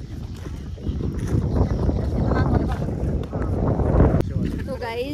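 Strong wind gusts outdoors at Jal Mahal roar steadily into the microphone as a loud, continuous rumble, with faint voices partly buried beneath it.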